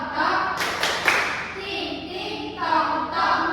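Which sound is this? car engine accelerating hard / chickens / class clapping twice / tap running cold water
class clapping twice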